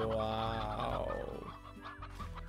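Chickens clucking in the video game Slime Rancher, a dense cluster of close, overlapping fowl calls and clucks filling the short stretch, fairly loud with no talking.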